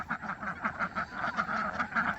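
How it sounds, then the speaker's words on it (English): A flock of ducks, including a drake, quacks in rapid overlapping bursts on a farm. The calls are close and continuous, and no talk is heard. "Look at these ducks running down the hill."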